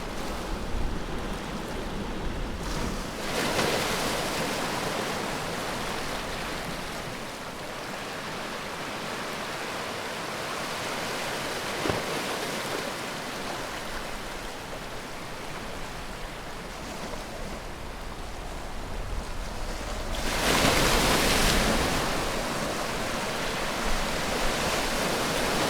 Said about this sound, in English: even watching the waves is meditation in itself